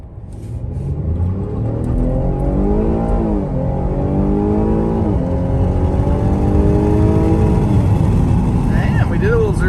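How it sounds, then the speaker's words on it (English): A 2022 Cadillac XT6 SUV launches hard from a roll, its engine note climbing steadily through gear changes for nearly ten seconds, loud and close from inside the cabin, with occasional voices over it. "Let's see what kind of launch we can get with this thing quick."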